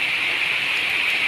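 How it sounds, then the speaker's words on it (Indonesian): Rain falls steadily on a farm field of porang plants, a dense even hiss of drops with no voices over it. "Ini hujan, kita berteduh dulu teman-teman, ngiup dulu karena hujan."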